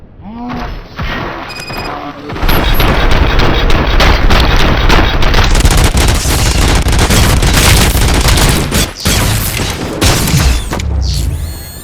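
Sustained, loud gunfire with heavy booms and thuds fills a firefight in Robocop: Rogue City, opening after a short lull and continuing densely throughout with game music and effects layered in.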